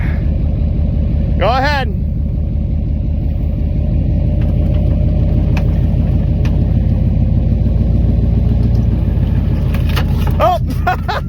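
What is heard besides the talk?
car burning rubber, engine revving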